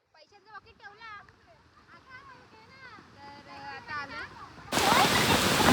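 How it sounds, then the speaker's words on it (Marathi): A small waterfall in the misty Malshej Ghat hills. Voices talk over quiet background for most of the time, then a loud, close rush of falling water fills the last second. "एक तर इकडे धबधबा छोटासा भेटलेला आहे"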